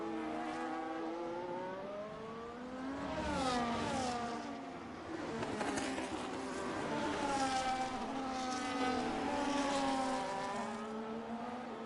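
F1 race cars scream past in a racing game at the Canadian round, several high-revving engines rising and falling in pitch as they pass, loud and continuous with no speech.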